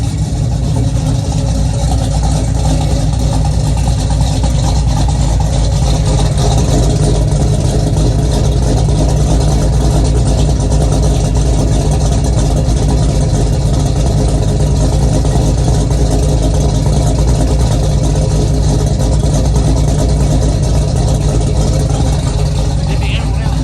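A 1965 Chevrolet C10 pickup engine runs steadily after major upgrades, a loud, continuous low rumble close by with a rough exhaust note. People talk over it at times.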